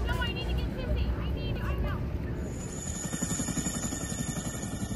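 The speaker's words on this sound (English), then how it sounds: "used a CH-47 Chinook helicopter to evacuate civilians" A California National Guard CH-47 Chinook helicopter flies steadily and loudly during a wildfire civilian evacuation, its broad rotor and engine rumble continuous throughout, with a brief voice heard early on.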